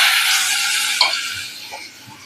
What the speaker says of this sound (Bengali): সাদা জিরে ফোড়নে দিয়ে দিচ্ছি।